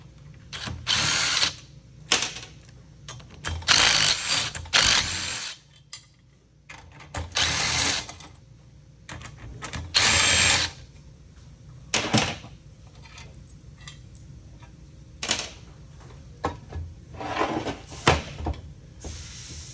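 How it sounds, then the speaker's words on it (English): A power drill backs out the four bolts holding a motor to its bracket assembly. It runs in a series of short whirring bursts separated by quiet pauses and light mechanical clatter. "remove the motor from the bracket assembly. Do that by removing the 4 bolts"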